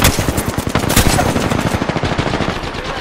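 Gunfire from a video game shootout: dense, rapid bursts of automatic shots crackle close and loud throughout, with no voices over them.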